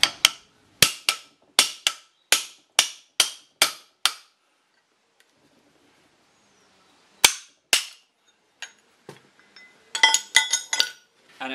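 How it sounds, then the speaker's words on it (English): Sharp metallic blows ring out as a chisel is driven against a bearing on a Nuffield/Leyland tractor halfshaft, a rapid series of about nine strikes, then a pause, two more hits and clinking metal handling. "get the chisel in"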